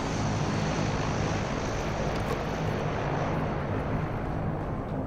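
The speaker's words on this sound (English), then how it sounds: "I'm gonna stay inside while the large carrier plane goes over the top" A large carrier plane passes overhead in PUBG, a steady, loud, droning roar that holds evenly throughout with no voices.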